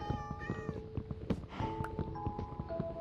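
Cats meowing in Minecraft, a few short mews over background music and footstep-like clip-clop sounds, with no talking.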